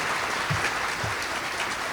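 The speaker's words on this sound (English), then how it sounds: "please give them a round of applause." An audience at an annual mayor's diversity awards celebration claps in a dense, steady round of applause that fills the whole moment, with no voices above it.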